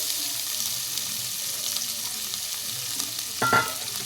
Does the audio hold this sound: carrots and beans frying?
yes